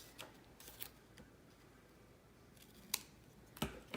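Scissors make a few quiet, separate snips through paper while cutting a piece for a handmade card, with short pauses between the cuts.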